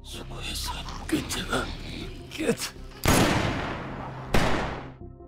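In a zombie film, two loud gunshots ring out a second apart, each with a long reverberant tail, after a stretch of faint murmuring and rustling.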